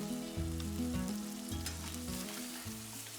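Lamb pieces browning in a pan for a spring lamb stew, sizzling steadily and close up as a utensil stirs, with no talking.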